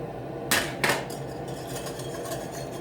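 Stainless steel whisk knocks against a pot of beef braise in two sharp metallic clinks about a third of a second apart, standing out over a steady, quiet kitchen background.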